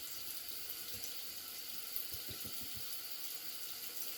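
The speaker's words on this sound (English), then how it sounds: "All right, rinsed out." Tap water runs steadily into a sink to rinse a Gillette razor, a continuous hiss with a few faint knocks partway through.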